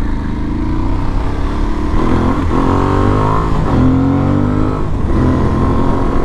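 Aprilia Tuareg 660 motorcycle engine revving under throttle while riding, a loud continuous drone with pitch rising and falling in several sweeps, close and alone with no talk.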